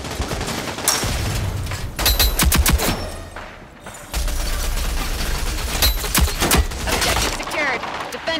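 Rapid bursts of KA30 assault rifle fire in the video game Rogue Company, several loud automatic volleys separated by short pauses, with a voice talking over parts of the shooting.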